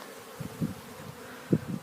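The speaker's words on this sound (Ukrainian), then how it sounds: "бджола вже на сонечку починає себе активно вести" Faint buzzing of honeybees flying close by in short bursts, rising and fading over a quiet outdoor background.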